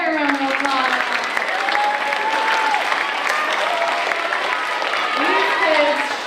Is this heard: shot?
no